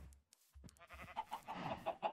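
Chickens cluck in the Minecraft video game: several short, close clucks and squawks that come faster toward the end, with no talking.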